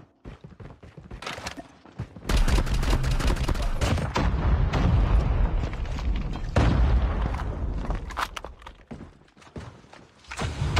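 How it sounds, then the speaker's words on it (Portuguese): Grenade blasts and gunfire in a Call of Duty Mobile battle royale match on the Isolated map, with dense bursts of shots and booms crowding the middle of the clip, loud and continuous. "Jogando granada"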